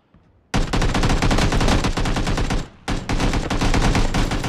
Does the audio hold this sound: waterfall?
no